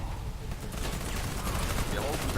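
Sustained gunfire from an enemy machine gun in a multiplayer war video game, a dense continuous battle din with people talking over it throughout.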